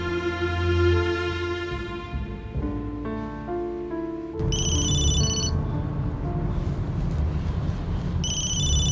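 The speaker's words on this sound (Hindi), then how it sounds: "तुम्हारा फोन बज रहा है" A melodic phone ringtone plays loudly up close, a tinkling tune followed by bright repeating chime bursts over a washing background noise.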